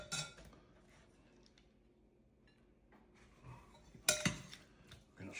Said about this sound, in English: I'm gonna stir this up just a little bit, just to get it mixed up